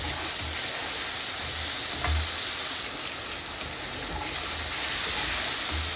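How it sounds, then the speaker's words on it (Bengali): Onion and garlic paste sautés in a hot pan with a loud, steady sizzle and hiss, close up and continuous, with faint stirring knocks underneath. "পেঁয়াজ বাটা রসুন বাটা দিয়ে এখন ভালো মতো কষাবো"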